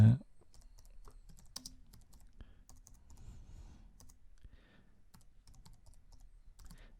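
Typing on a computer keyboard for a text-writing lesson: a run of quiet, irregular key clicks at close range, with a soft voice murmuring faintly at times.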